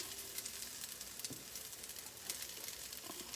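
Cornbread frying in a hot pan, a soft continuous sizzle with light crackling pops, faint and close, no talking.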